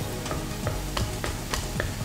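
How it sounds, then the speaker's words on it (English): Mushrooms fry in a pan of olive oil and butter, giving a soft steady sizzle broken by regular scraping stirs roughly every third of a second, close by and fairly quiet, with no talking. "You're always tempted to think you need more fat when you're frying mushrooms because they absorb all the olive oil and the butter"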